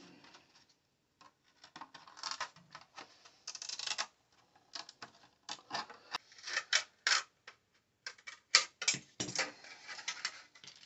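Cutting out a Tekno MT-410 RC car body shell, with scattered short snips and scraping crackles of plastic in irregular clusters, close and quiet, with pauses between cuts.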